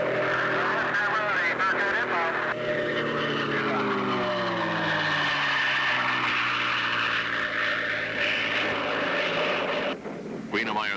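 A Grumman Bearcat racing plane flying hard with a hot engine, a loud continuous droning roar whose pitch swoops and shifts as it passes, with a commentator's voice running over it.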